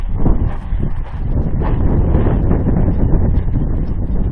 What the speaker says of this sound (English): darn wind, sorry about the wind.